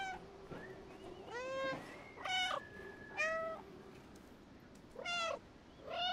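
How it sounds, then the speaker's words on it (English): Cat meowing in the video game Stray, several distinct meows of varying length and pitch, some rising and drawn out, heard alone at moderate loudness with short pauses between calls. "Maybe they'll come out if I meow?"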